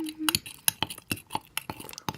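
Glitter slime being stirred in a cup with detergent added to the glue, giving a string of separate light clinks and taps, close and fairly quiet, with faint breathy whispering between them.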